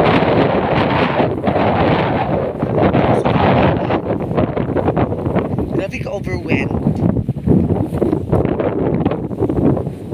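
Strong wind roars and buffets the microphone throughout, loud and constant, with people talking over it.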